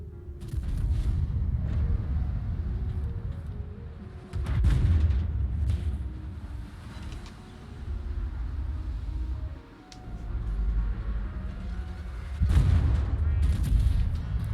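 Naval guns firing high-explosive shells in the World of Warships video game, heard as heavy booming salvos in separate bursts with rumbling tails, along with softer gunfire and crackle in between.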